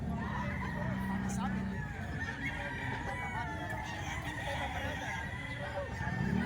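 Chickens and roosters at a busy poultry market crow and cluck over one another, with a crowd murmuring and people talking underneath.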